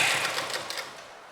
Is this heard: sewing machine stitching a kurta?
yes